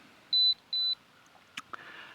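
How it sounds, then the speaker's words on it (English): Holy Stone 360E drone controller beeping while connecting: two clean high electronic beeps in quick succession, followed by a couple of faint clicks over quiet background. "It says it's connecting, but it beeps."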